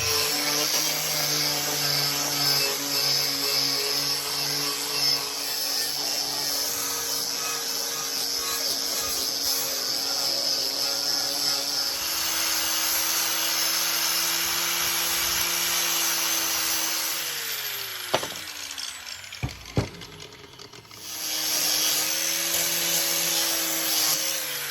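A flap disc on a power grinder works steel wine barrel straps for a bonsai pot, a loud sustained whirring drone that shifts pitch as pressure changes, with a few brief clanks and a pause near the end before grinding resumes.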